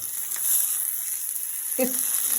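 Tomatoes and masala tipped into a hot frying pan on a home stove, giving a steady close sizzle with a sharper burst of crackling as the ingredients hit the oil near the end.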